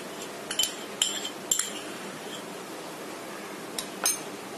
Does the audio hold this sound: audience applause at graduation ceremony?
no